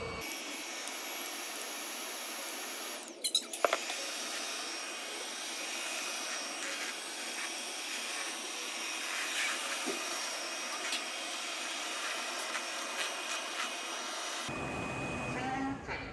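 An iLife Shinebot W455 robot floor cleaner runs with a steady, fairly faint whirring hum, a few brief clicks and knocks partway through, and the motor note shifting near the end.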